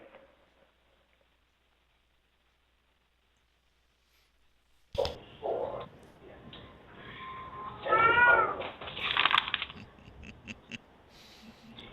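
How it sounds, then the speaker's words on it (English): A cat meows loudly several times close by after about five seconds of near silence, with the cries rising and falling and a rough, drawn-out quality. "That's my old cat."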